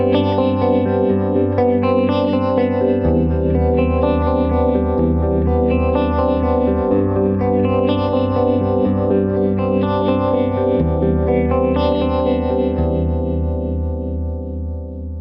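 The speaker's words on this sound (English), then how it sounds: "Here's an example with the mix set low with a slow envelope for a chorus-like shimmer." Guitar played through an Archetype Misha Mansoor laser pedal set to a low mix and slow envelope, giving sustained chords a shimmering chorus-like wash, loud and continuous, fading slightly at the end.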